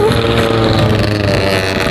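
Motorcycle engine pulling hard under throttle on a smooth, quiet road, a steady loud drone with rising rumble and wind rush throughout, close and continuous for two seconds.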